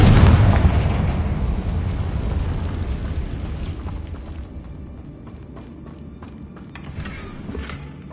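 Confringo blasting spell from the Hogwarts Legacy video game: a loud booming explosion at the start that decays into a long rumbling tail, with faint scattered clicks toward the end.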